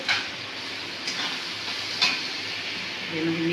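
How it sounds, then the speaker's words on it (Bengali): Masala fries and sizzles in a kadai with a constant hiss, and a spoon scrapes through it in a few stirring strokes. "কাকি একটু নাড়িয়ে নিচ্ছে না নাড়ালে মশলাটা নিচে কড়ায় লেগে যাচ্ছে"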